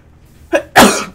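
A single close, sharp sneeze from a person, preceded by a short indrawn breath and trailing off into a breathy hiss.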